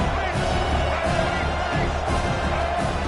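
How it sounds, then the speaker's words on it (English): A home crowd in an American football video game roars as one dense, unbroken wall of noise, loud and sustained, with a commentator talking over it. "this home crowd is fired up and ready to make a difference today"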